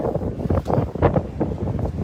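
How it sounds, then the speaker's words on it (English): Heavy wind buffets the microphone in uneven rumbling gusts outdoors at Hyde Park in Sydney, a loud, low, blustery roar with no voices. "It also means that I get to test a wind mic because it's so windy."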